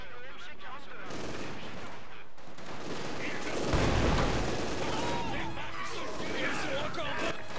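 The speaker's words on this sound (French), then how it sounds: "Ici, mitrailleuse lourde." Heavy machine gun fire in Company of Heroes 2 rattles in bursts amid explosions and battle noise, loud and dense, with a soldier's voice speaking over the combat.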